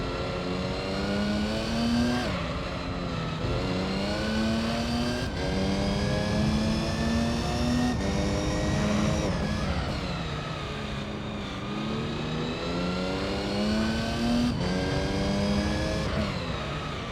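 A race car engine in the Gran Turismo 3 video game, a roughly 200-horsepower car on narrow tyres, revs loud and steady through repeated rising gear sweeps with sharp shift drops, continuous for the whole stretch with no talking.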